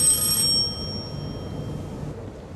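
A telephone rings briefly in an indoor domestic setting, a bright high-pitched ring at the start that quickly fades, leaving a low background hum with no talk.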